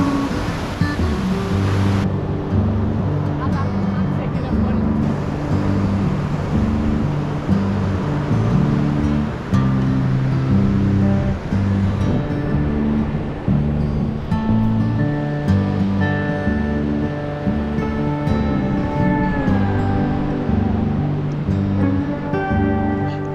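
Ocean surf rolls onto a beach on Australia's Sunshine Coast, a loud, continuous wash of breaking waves with no voices.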